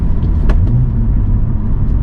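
A BMW M235i engine drones low and steady from inside the moving car, a deep even rumble with slight rises in tone and no speech over it.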